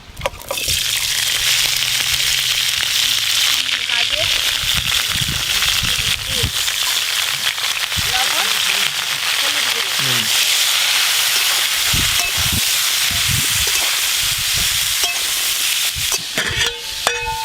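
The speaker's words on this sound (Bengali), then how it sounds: "এবার এই বাকি সবজিগুলো একসঙ্গে হালকা করে ভেজে নেব" Mixed vegetables frying together in a pan for khichuri, a steady loud sizzle with stirring and clinking throughout, with voices talking in the background.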